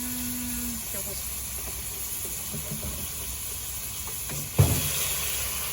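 Minced pork stir-fries with dried chili, garlic, oyster sauce, fish sauce, sugar and seasoning sauce in a pan, a steady sizzle under a low voice, with a sharp utensil clack near the end.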